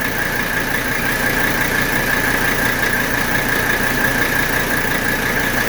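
A 1985 Mercedes 300D diesel engine runs steadily with its AC compressor engaged, a constant close mechanical drone with a whining tone held evenly throughout, no speech.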